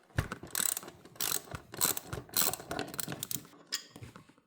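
A ratchet wrench loosens a bolt on a Suzuki S40 Savage motorcycle, with about five quick bursts of close, crisp clicking separated by short pauses.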